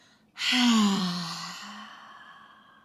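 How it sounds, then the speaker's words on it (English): Deep yoga exhale through an open mouth with an audible breathy ha, starting abruptly after brief quiet, loud and close, then tapering off slowly over about two seconds with no talk. "Big breath in through the nose, expand, fill up. Open mouth, H-A."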